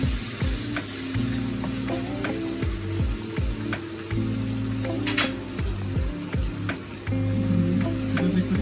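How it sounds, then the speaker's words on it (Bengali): Steady sizzling of onion greens frying in a hot pan for a sweet pumpkin dish, with repeated scraping and stirring clatters close by. "এবার আমি ফুলকলিটা বা পেঁয়াজ পাতাটা দিয়ে দিচ্ছি"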